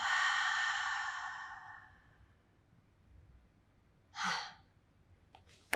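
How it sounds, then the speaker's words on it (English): A long, deep exhale during a Pilates workout for moms, breath released slowly and fading over two seconds, followed by a quieter breath in, close and soft, with no talk. "Deep inhalation with me, please. Exhale. One more time. Inhalation. Exhale."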